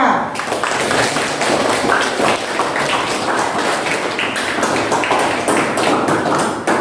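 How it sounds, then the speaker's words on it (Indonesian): A classroom of students claps for group 2 during a mathematics lesson: dense, steady applause with many overlapping claps that runs loud and close for the whole stretch, with no talking over it. "kita berikan tepuk tangan untuk kelompok 2"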